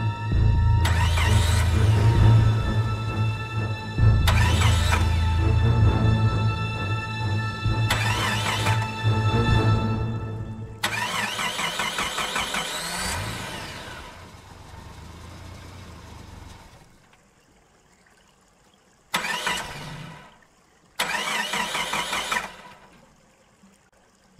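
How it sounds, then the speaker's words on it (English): A Chevy wagon's engine cranks repeatedly without catching, several churning bursts of starter noise separated by pauses, loud and close, with no voices over it. "he goes to turn the car on, but it would not"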